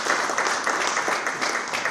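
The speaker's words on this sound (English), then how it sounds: "it's got a little round of applause for that." Applause from the audience at a community education foundation awards event, a steady dense wash of many hands clapping together, moderately loud and continuous with no voices over it.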